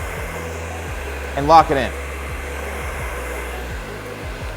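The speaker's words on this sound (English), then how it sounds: "And you want to use the blow dryer" A blow dryer drying hair worked with a brush hums loudly and steadily throughout, its whine shifting briefly as the dryer moves, while a person talks over it.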